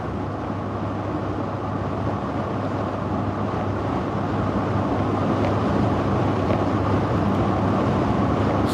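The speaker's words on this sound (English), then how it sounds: "This is a Jeep, and the wind noise or the road noise is very loud." Steady, loud wind and road roar inside a moving Jeep on a Texas highway, a dense unbroken rumble with low hum throughout and no speech.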